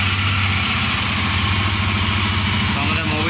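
Royal Enfield Guerrilla 450 motorcycle engine idling steadily and loudly close by, right after an oil change, with a constant rumble and a voice heard briefly.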